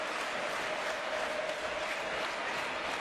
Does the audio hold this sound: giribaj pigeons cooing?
no